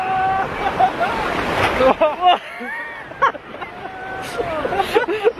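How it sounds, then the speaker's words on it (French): Sea waves surge and crash on a beach at the year's first swim in Korea, a steady loud wash of surf with wind buffeting the microphone while several people talk and exclaim over it. "Pourquoi il y a plein de vagues comme ça là?"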